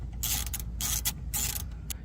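A bolt being removed from the center console of a Lexus RX350, heard as several bursts of clicking ratchet strokes in quick succession, close and fairly quiet, with short pauses between them.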